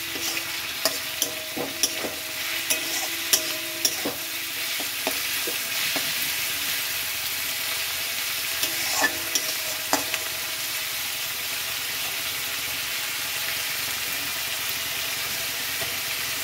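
Onions frying in a pan for a chicken dish, with a steady broadband sizzle throughout and scattered scraping clicks of stirring in the first ten seconds, no voices.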